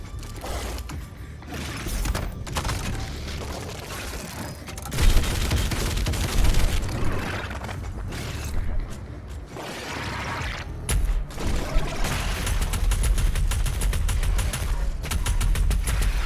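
Shotgun blasts and chaotic combat in the video game Doom Eternal, loud booming shots amid dense action noise and constant game sound throughout.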